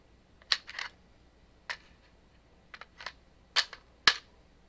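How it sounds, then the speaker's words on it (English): Metallic clacks and clicks from a Desert Tech MDR .223/5.56 bullpup rifle being handled with an empty magazine, its bolt closing; several sharp, separate snaps spread out at moderate volume with quiet gaps between. "Yep. Yeah, on an empty mag. Does that. And then I can close the bolt."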